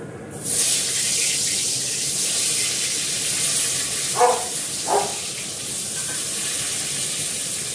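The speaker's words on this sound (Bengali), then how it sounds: "এবার আলুটাকে ভেজে নেব।" Potatoes frying in hot oil give a steady, broad sizzling hiss that runs almost the whole time, with two brief clicks near the end.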